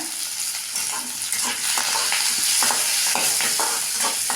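Small onions frying in hot oil for a mango curry, with a loud, continuous close-up sizzle and the scrape and rustle of stirring throughout.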